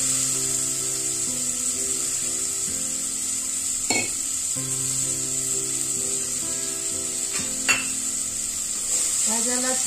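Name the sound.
vegetables being sautéed in a pan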